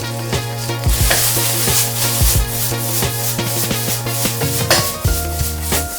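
Onion, scallion and garlic fried rice is tossed in a hot pan, giving a loud, continuous sizzle broken by repeated scraping and rattling strokes, with no voices.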